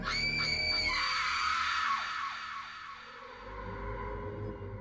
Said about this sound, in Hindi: रेशमा के कमरे से उसे एक लड़की की बेहद दर्दनाक चीखें सुनाई देने लगी।